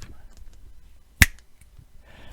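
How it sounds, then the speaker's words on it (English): A single sharp finger snap, close and crisp, standing alone amid quiet room noise and faint vocal sounds. "I'm gonna start snapping now because I can't clap."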